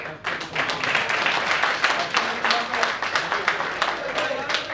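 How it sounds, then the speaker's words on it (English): A reunion audience breaks into sustained applause, dense overlapping claps that swell quickly and hold steady, with voices mixed into the crowd noise. "You can give one more applause of round because he is son of our Bhaskar Bhai"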